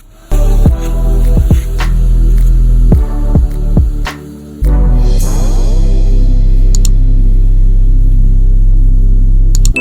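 Vacuum cleaner working over dirty car seats, starting with a few sharp knocks and a brief dip, then a loud, steady motor whine that sweeps upward and holds to the end.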